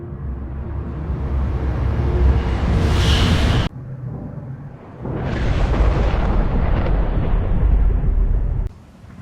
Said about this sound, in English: So I changed the prompt to a simple explosion in the street.